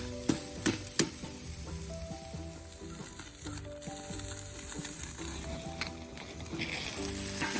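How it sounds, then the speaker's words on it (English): Steady crackling sizzle of steak searing on a small DIY pail charcoal grill, with a few sharp clicks early on and faint background hum. "Come in close to hear this sizzle."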